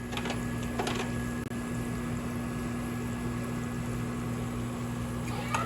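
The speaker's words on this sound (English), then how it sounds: "Sorry, there's so much noise going on. We got the microwave, we got my ice maker" A kitchen microwave and ice maker run together, a constant mechanical hum with a steady tonal drone and faint intermittent clicks throughout, no voices.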